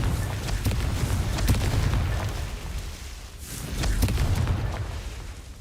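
A Confringo spell in Hogwarts Legacy sets off a fiery explosion. A heavy rumbling blast swells, dips, then surges again over a sustained low roar with crackling pops.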